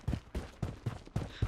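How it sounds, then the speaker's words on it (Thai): Gunfire in the shooter video game Blood Strike comes as a quick run of about six muffled, evenly spaced shots, faint and distant. "ผมได้ยินเสียงปืนยิงกันอะจะไม่รู้จากทางไหนครับ"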